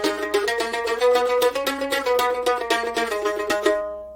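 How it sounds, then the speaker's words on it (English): A short four-note Dorian (minor) tetrachord melody on bowed or plucked strings, notes repeating in steady rhythm and ringing clearly, with no voices. "It's the Dorian tetrachord, or you can call it a minor tetrachord. It sounds like this."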